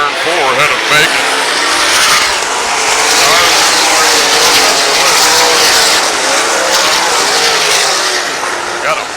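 A pack of sprint cars races around Oskaloosa Raceway, engines howling loudly and continuously with tire scrub as they circle the track, under a commentator's running talk.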